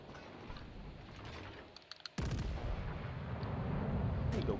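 Heavy naval guns firing in the World of Warships game: a sudden loud broadband blast about halfway through, followed by sustained dense rumbling boom and crackle, with birdlike coos faint in the background earlier.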